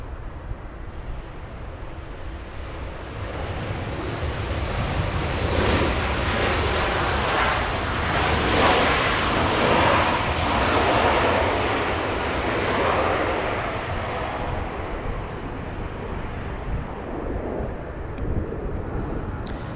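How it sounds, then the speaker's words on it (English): An American Airlines Airbus A321neo arrives at LAX from the north side, its broad engine roar swelling steadily and holding loud for several seconds before easing slightly, with no talk over it. "A321neo coming in, American Airlines choosing the north."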